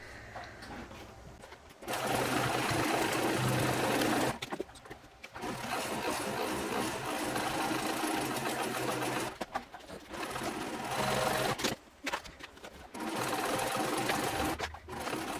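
A sewing machine top stitches across a concealed-carry purse, running in several steady bursts of rapid, close mechanical whirring separated by short pauses.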